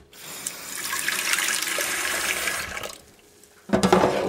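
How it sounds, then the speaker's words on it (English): Tap water gushes loudly into a frying pan in a kitchen sink, a steady splashing hiss for nearly three seconds that cuts off, followed by a brief clatter. "Put that in the sink. Add some water to it."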